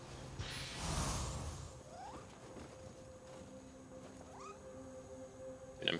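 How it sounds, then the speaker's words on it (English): Cat meowing somewhere in the Nioh 2 video game, two short rising mews spaced a couple of seconds apart, fairly faint against low game ambience after a brief burst of noise at the start. "There was a cat? I've been hearing a cat out there."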